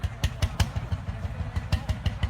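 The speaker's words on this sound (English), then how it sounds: "The 1938 Crossley Brothers HD8 is a British slow-speed diesel with 8 inline cylinders" A 1938 Crossley Brothers HD8 British slow-speed diesel with eight inline cylinders runs steadily, its loud, close exhaust thumping in an even, rapid rhythm with mechanical clatter.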